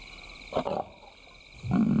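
A lioness calls to her cubs with low, grunting moans: two short bursts, a pause, then a longer, deeper call. It sounds moderately distant and outdoors, over a steady hum.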